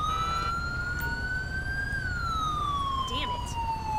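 Police car siren in the GTA LSPDFR video game, one loud wail that climbs then slowly falls in pitch over a low engine rumble, with a brief chirp near the end.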